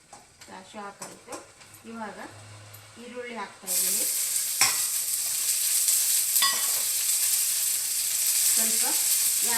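Cashews hit a hot pan of oil already holding peanuts and cumin for ragi vegetable upma and burst into a loud, steady sizzle with scraping stirs, after someone talks over quieter background sounds.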